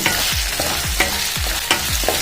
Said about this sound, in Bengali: হালকা ভাজা ভাজা করে নিই